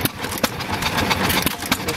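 A John Deere one-cylinder hit-and-miss engine from around 1930 runs close by, giving irregular sharp chuffing pops and thumps every half second or so over a mechanical clatter.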